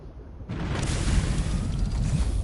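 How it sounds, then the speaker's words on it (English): Explosion in the underwater video game Subnautica Below Zero, a sudden loud rumbling blast that swells in and roars on as a dense, sustained boom for a couple of seconds. "Fucking explosions, man. Sound like a damn roar in my ear."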